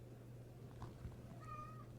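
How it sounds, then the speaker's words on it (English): A male cat meows in a short, drawn-out call about midway, fairly faint over a steady low hum in an indoor room, with no one talking. "Can you hear him meow?"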